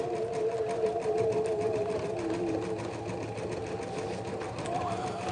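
Embroidery machine stitching a design onto a hoodie, with a steady, close, rapid mechanical hum and needle chatter running the whole time and no speech.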